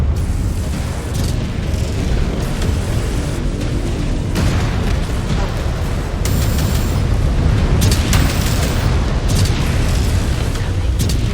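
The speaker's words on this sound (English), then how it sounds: "Incoming missile." Missile explosions in the MechWarrior 5 Clans mech combat game, a dense run of loud booms and bursts rolling continuously with heavy low rumble, under game voice alerts.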